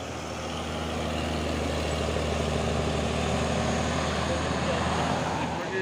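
Steady, loud engine rumble from a trailer truck at a crowded rice-field recovery scene, a continuous low drone with broadband roar and no breaks.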